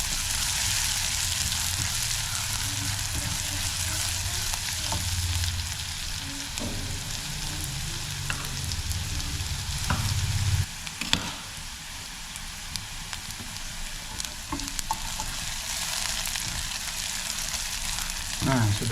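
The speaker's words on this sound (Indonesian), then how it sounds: "Tumis sampai layu, baru setelah ditumis sampai layu, cabai hijau dan cabai rawitnya masuk ya." Tempeh and green chilies sautéing in a pan give a steady, close hiss of frying oil with occasional clinks of stirring, while a voice talks faintly now and then.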